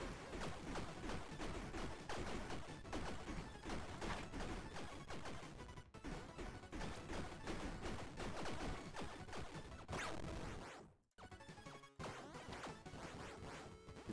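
Cannon fire in Tiny Rogues, a cowboy demolitionist build with dynamite and pineapples, heard as a dense, continuous barrage of rapid blasts and crashing hits, loud throughout with a brief dropout near the end.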